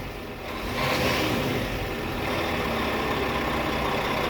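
A heavy Scania truck engine revs up, swelling in loudness around the first second, then holds at a steady, rumbling drone.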